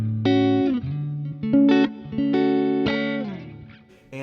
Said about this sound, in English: Here's the neck pickup.